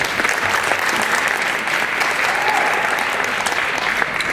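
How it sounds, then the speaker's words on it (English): Dense, steady applause fills a hall at an MLK community breakfast in Hamtramck, a continuous crowd of clapping hands at even loudness throughout. "One more round of applause."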